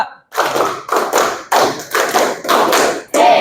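Students in a classroom clapping rhythm game clap together in counted groups, sharp collective bursts separated by short pauses in an uneven pattern, close and loud with no talking.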